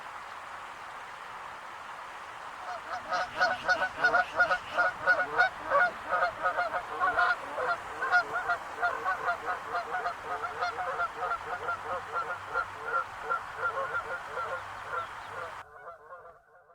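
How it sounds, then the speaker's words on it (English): A goose honks in a quick run of loud, nasal calls that start after a short quiet lead-in and continue steadily, close and alone. "Goose."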